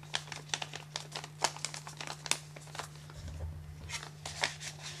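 Paper crinkles and crackles close up as it is folded into an origami CD sleeve, with a series of sharp creasing rustles over a faint steady hum.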